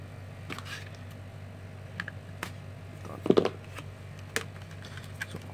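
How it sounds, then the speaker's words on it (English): Scissors snip and crinkle through the plastic packaging of a Cardfight Vanguard trial deck, a few faint, close clicks and cuts spread unevenly over a quiet room hum. "Let's take the scissors out."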